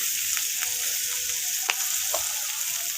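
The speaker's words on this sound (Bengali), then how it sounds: "সমস্ত কিছু মশলা এইভাবে নাড়াচাড়া করে আমি আলু আর ডাঁটার সাথে কষিয়ে নিচ্ছি।" Spices stir-fried with potatoes and vegetable stems for a spinach and bottle gourd leaf curry give a steady close sizzle, with a few scrapes and light knocks from stirring.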